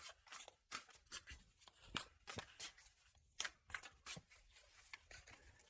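Tarot cards are shuffled and drawn by hand in quick, papery riffles and snaps, irregular bursts of rustling close to the listener with no one talking.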